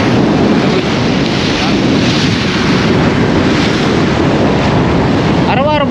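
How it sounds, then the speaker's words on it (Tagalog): Strong ocean waves on a shore, heard as a loud continuous roar of surf heavily mixed with wind buffeting the microphone, ending with a brief warbling tone. "Araw-araw ba ganyan kalakas ang alon?"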